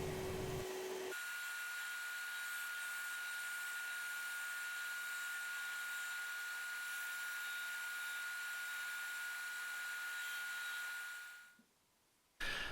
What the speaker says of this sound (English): I'm just going to do the upper profile next with my disc sander